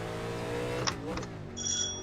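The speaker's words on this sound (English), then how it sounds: "My doorbell keeps ringing." An electronic doorbell rings in two brief, high chimes indoors, the second one longer, over the steady engine drone of a NASCAR Legends car in a sim race at Road Atlanta.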